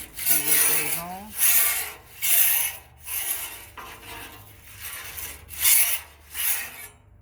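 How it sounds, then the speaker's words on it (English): A metal spatula scrapes and spreads food across the hot steel top of a Blackstone 36-inch Pro Series griddle, making close, rhythmic rasping strokes about once a second over a sizzle. "Now I'm going to use my spatula. And I'm just going to spread it out here a little bit."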